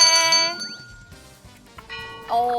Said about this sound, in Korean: 이번에도 골든벨이 울렸습니다.